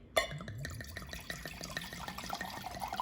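Wine is poured into a glass, a faint, steady trickle with small splashes and gurgles that begins with a brief louder spill and runs continuously.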